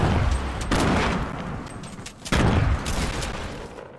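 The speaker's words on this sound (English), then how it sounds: "Nade's going in." Fortnite battle sounds of a thrown grenade and gunfire come through as loud, close bursts of booming, rattling fire, with two sharp onsets separated by a brief lull.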